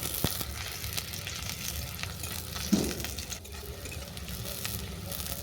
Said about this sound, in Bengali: আমি এর মধ্যে দিয়ে দেবো কুচানো পেঁয়াজ, পেঁয়াজটাকেও হালকা করে ভেজে নেব।